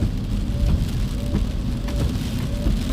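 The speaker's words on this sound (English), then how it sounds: "we are in a little bit of rain." Steady rain drums on a car while driving slowly along a road, a dense constant patter with low road rumble underneath and no talk.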